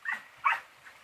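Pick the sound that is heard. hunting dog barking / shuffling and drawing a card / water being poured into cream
hunting dog barking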